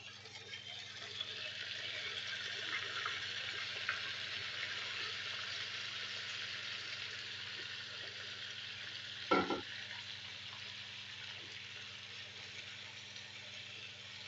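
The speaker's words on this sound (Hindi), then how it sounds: "अब यहाँ पे डालेंगे हम अपना मैरिनेट किया हुआ गोश्त।" Marinated mutton frying in hot oil in a pot, a steady close sizzle throughout, with a single clank partway through.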